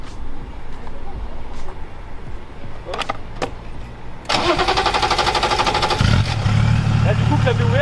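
A BMW 525tds E34 diesel engine cranks and catches after some French conversation, then settles into a loud, clattering idle close by.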